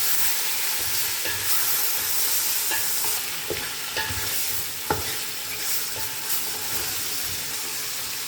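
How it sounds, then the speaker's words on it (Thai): Pork belly stir-fried in a hot pan gives a dense, steady sizzle close up, with scattered knocks and scrapes of the spatula as the meat is tossed. "ผัดจนให้หมูเซ็ตตัว ผัดให้พอน้ำมันหมูเขาออกมา"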